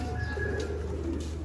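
Zeera breed pigeons coo softly and repeatedly up close, low throaty calls rolling over a quiet background hum.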